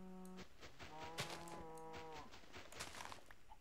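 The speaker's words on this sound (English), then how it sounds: "Hello, cow." Minecraft cow mooing in a blocky video game world: a short low call, then a longer wavering moo, heard up close amid faint game clicks and thuds.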